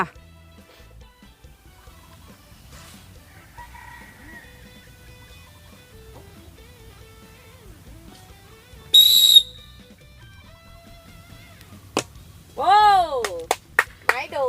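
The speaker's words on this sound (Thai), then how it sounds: "ถ้าได้ยินเสียงนกหวีดก็คือปลาเลยนะจ้า" During a blindfolded balloon-dart game, after quiet voices and faint background chatter, a shrill whistle blows sharply once, then several warbling whistle trills sound close and loud near the end.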